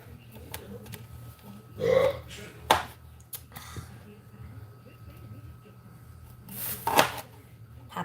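Burping from a person in a home kitchen while making dinner, with a couple of short belch-like bursts standing out over quiet background and light handling noises.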